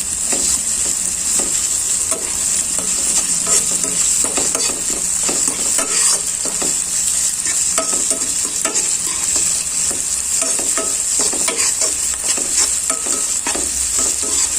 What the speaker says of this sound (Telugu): ఈ అల్లం వెల్లుల్లి పేస్ట్ కూడా చక్కగా బాగా ఫ్రై అయ్యే వరకు ఉంచుకోవాలి